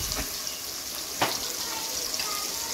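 Onions fry in hot oil for a saag tadka, giving a steady close sizzle with a couple of brief clatters or stirs, no voices.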